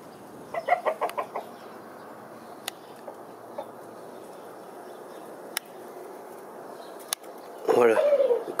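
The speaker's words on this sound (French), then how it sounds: "Voilà, le coq" Hens and a rooster in a snowy backyard flock cluck and squawk, a burst of clucks early on, then sparse quiet calls and a louder flurry of clucking near the end.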